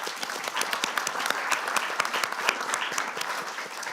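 Audience applause fills a hall at the Halifax International Security Forum, a dense, steady patter of many hands clapping at even loudness for the full few seconds, with no talk over it.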